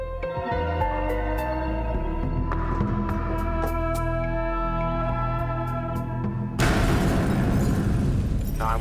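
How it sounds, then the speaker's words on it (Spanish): A bomb hidden in a green fishing tackle box given as a Christmas present goes off inside a house: a sudden broad, roaring blast bursts in near the end and keeps rumbling after a stretch of steady tonal music. "La explosión fue inmensa."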